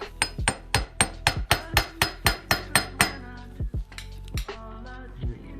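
Sharp metallic hammer taps on transmission parts during an FS5R90A gearbox teardown, a quick run of about a dozen evenly spaced ringing strikes, then a few sparser, softer knocks with rattling metal afterward.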